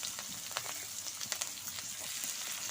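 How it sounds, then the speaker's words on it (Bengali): Chopped onion, chili and garlic sizzling in hot oil in a wok after fish has been fried, a steady soft crackle with faint stirring clicks, no voices. "এটা এখন আমি ভালোভাবে একটু ভেজে ঝলসে নিব"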